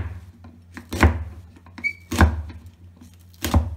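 Mango is cut into small pickle pieces on a board with three heavy, evenly spaced chops about a second apart, close and with no voices, and a faint short squeak comes between two of the chops.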